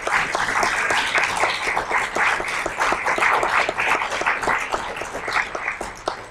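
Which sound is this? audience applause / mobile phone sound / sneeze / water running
audience applause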